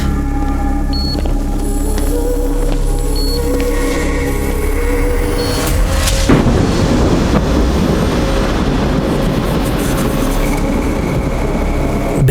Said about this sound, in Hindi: बिजली कड़की और साथ में पावर आ गया।